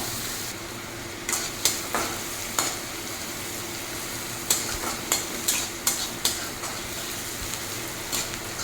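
Crushed ginger and garlic fry with onions in a pan for a fish-head and snake gourd muro ghonto, giving a steady close sizzle broken by a dozen or so sharp stirring scrapes and clicks, with no talking.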